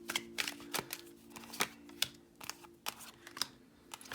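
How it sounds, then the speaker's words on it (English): Tarot cards shuffled by hand, giving a quiet run of crisp, irregular slaps and riffling ticks close by, with no talk. "So I just shuffle in my hand and then just pull the cards."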